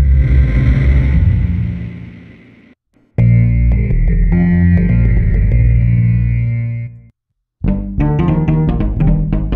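Output Exhale plugin playing a sub and noise preset: loud, distorted, effected synth-vocal tones in three sustained phrases, separated by brief silences, with the last one choppier and more rhythmic.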